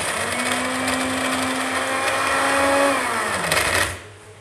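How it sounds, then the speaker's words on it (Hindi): A blender mixer grinds broken Oreo cookies into powder with a loud, steady motor whir that runs for several seconds, then winds down and stops. "तो अब इनको ब्लेंड कर लेंगे।"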